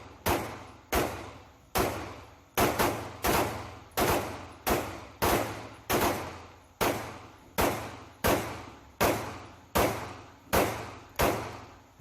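Ten-plus rapid Glock 19 Gen 4 pistol shots fired through a Combat Armory barrel at a shooting range, sharp loud cracks in a steady, evenly spaced string, each followed by a brief decaying echo, with no talking.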